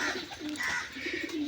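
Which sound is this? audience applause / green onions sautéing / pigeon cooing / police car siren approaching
pigeon cooing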